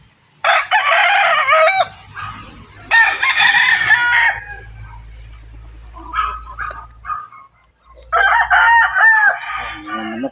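A rooster crows several times during a family vacation, loud and close, with long calls separated by short pauses. Low background rumble and brief clucking or other fowl noises fill the gaps, with no talking.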